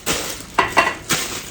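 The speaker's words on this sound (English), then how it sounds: "See when that starts to sizzle?" Stir-fried chow mein with vegetables being flash-fried in a pan: a broad sizzle runs throughout, broken by several louder clinking scrapes of utensil against the pan, close up and with no talk.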